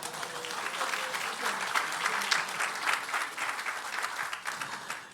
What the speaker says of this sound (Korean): 서로를 향하면 사랑의 박수 한번 해주시죠